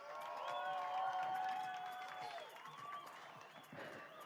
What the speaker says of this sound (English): big round of applause for Alistair Stubbs